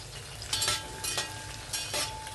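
Metal spoon scraping a pot while scooping out an onion and sardine chammanthi mixture, three or four short, bright scrapes spaced across a faint background hum, no talking.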